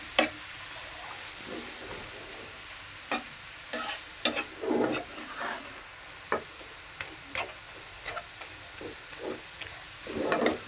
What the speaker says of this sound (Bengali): আমি এখন আরেকটু নেড়ে চেড়ে ভেজে নিব